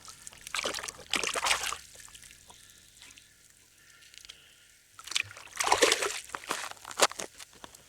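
Water sloshes and trickles in two short bursts while a cleaned rockfish is rinsed during an ice fishing cook at Spray Lakes in the Rockies.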